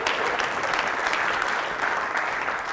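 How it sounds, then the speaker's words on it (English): An audience at a business event breaks into steady, fairly distant applause, a dense even wash of clapping with no talk over it. "And I hear a round of applause for all of you."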